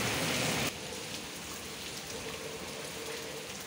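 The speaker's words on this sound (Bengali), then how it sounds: "প্রচুর পরিমাণ বৃষ্টি হচ্ছে, ঝুম বৃষ্টি।" Heavy rain falls on a waterlogged city road in a garment-factory area, a steady close hiss of drops that stays even throughout with no talking.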